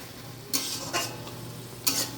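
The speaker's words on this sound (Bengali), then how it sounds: "ভালো করে এটা মিশিয়ে নিয়ে" A spoon stirs banana flower curry (mochar ghanto) with added water in a pan, giving three soft scraping swishes, close and fairly quiet.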